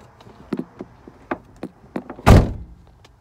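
A few light clicks and taps, then one loud, solid thunk of a car door shutting close by, followed by quiet.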